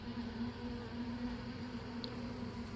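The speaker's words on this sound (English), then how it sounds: "That's a fly." A fly buzzes steadily at an open-air bee pollen feeder outdoors, a faint, continuous drone with no talking.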